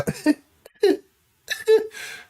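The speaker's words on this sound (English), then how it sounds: "cough" One person nearby lets out a few short, rough coughs in quick bursts, with brief pauses between them and a quieter, breathy tail at the end.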